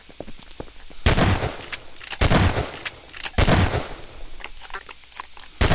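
Double-barrel shotgun fired in the Combine Insurrection game, three loud blasts spaced about a second apart, each with a sharp crack and short decaying tail, with quieter clicks in between.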